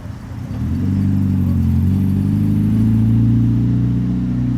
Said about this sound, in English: Got two Mark 1 MX-5s arriving